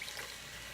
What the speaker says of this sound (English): we're going to add in some of our cooking liquid from the potatoes